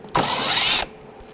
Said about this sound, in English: use a 8mm socket, take this bolt out